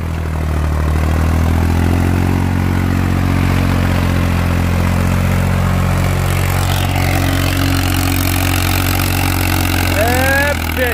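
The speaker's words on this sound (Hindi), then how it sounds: "रडाक सुनो भाई, ट्रैक्टर का रडाक" A Swaraj 735 FE tractor runs with a tiller attached, its diesel engine thumping in a loud, steady low chug close by, with a brief higher whine near the end.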